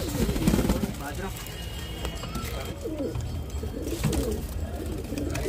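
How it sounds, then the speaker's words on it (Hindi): Pigeons coo in soft, repeated throaty phrases while being fed grain, close by, with someone talking over them throughout. "एक काम करते हैं कबूतरों को दाना भी डाल देते हैं भाई"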